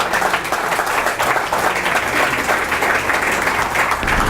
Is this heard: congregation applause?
yes